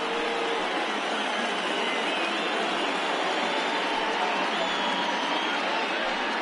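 A baseball stadium crowd of over 39,000 on its feet in the ninth inning, a dense continuous roar of cheering that stays steady and loud throughout without individual voices standing out.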